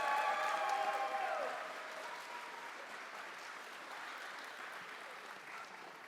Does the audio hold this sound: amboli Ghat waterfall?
no